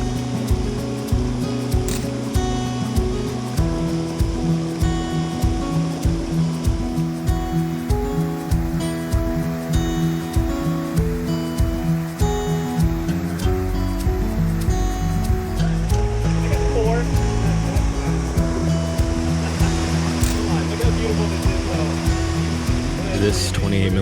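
Rushing waterfall in the North Cascades roars as a continuous broadband wash of falling water, loud and close, with a rhythmic thumping rattle through the first half and someone talking over it.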